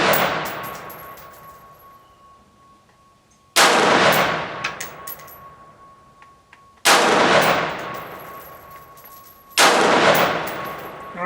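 Four loud, sharp rifle shots from a Retro 601 firing 55-grain ammunition ring out at spaced intervals, each crack followed by a long fading echo, with quiet pauses between them.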